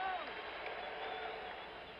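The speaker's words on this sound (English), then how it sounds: "There goes Walton off for a round of applause" Applause and cheering from an arena crowd at an NBA Finals championship game as Bill Walton leaves the court late in the game, a steady wash of distant clapping and crowd noise, heard faintly and slightly muffled.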